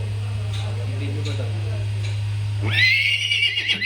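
A horse gives a loud, close, shrill whinny in the final second, after a stretch of steady low hum with faint background sounds.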